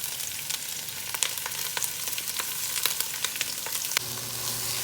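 Peppers sizzle and crackle steadily in a hot frying pan, with scattered sharp pops and spatters over a constant close hiss, no voices.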